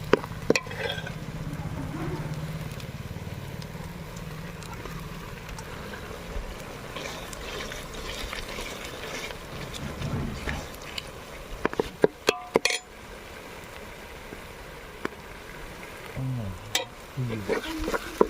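Red chili powder hits hot tempering oil for a brinjal dish and fries with a soft, low sizzle, broken by scraping stirs and sharp clicks of the spoon against the pan, fairly quiet throughout.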